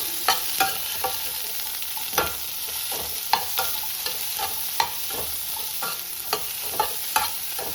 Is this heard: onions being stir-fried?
yes